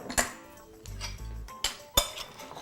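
A spoon stirs fruit and vanilla bean paste in a bowl, making a few sharp clinks and a short scraping rub against the bowl, fairly quiet and close.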